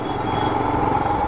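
A Royal Enfield Himalayan motorcycle idles steadily nearby after its second service, a constant low engine drone with a faint higher whine, no voices.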